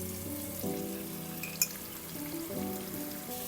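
Food fries in a pan with a soft, steady sizzle and faint bubbling, quiet and close, with a single small clink partway through and no talk.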